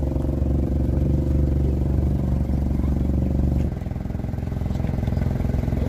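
A 2.5-litre diesel car engine idles close by with a steady, loud, rattling clatter that continues throughout, dipping slightly in level partway through, with no speech.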